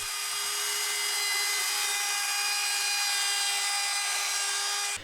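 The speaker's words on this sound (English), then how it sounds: "I then gave the shelves a light round over on the edges with my trim router" A trim router rounding over the edges of plywood loft shelves, a steady high-pitched whine with a smooth cutting hiss that holds loud and even throughout, then cuts off at the end.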